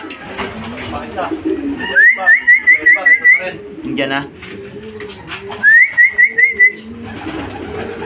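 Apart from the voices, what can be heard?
racing pigeons arriving at the loft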